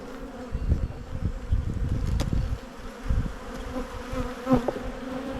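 Honey bees buzz steadily across a brood frame lifted from a white hive, a close, continuous droning hum with occasional louder passes as individual bees fly near, no talking.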